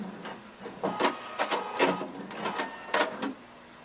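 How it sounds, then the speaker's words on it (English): A sewing machine runs in short bursts of rapid stitching along a jumpsuit's shoulder seam, several quick whirring runs separated by brief pauses, close and clear. "we're going to just stitch along our shoulder seam, right in that ditch."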